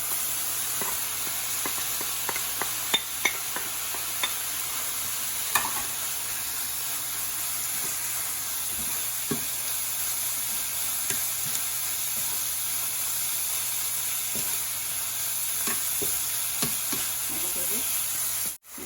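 A chicken patty mixture with lemon juice and spices fries in a pan, a faint continuous sizzle broken by occasional soft scrapes and clicks from stirring, with no talking.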